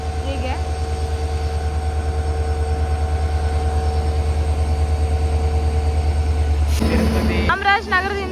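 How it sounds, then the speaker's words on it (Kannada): A Mysuru passenger train from Chamarajanagar rolls into a station platform with a deep, steady rhythmic rumble and faint tonal hum, followed near the end by a sudden burst of higher-pitched screeching and clatter. "ಚಾಮರಾಜನಗರದಿಂದ ಮೈಸೂರಿಗೆ ಬರೋ ಮೈಸೂರು ಪ್ಯಾಸೆಂಜರ್ ನೋಡಿ ಈಗ ಬಂತು"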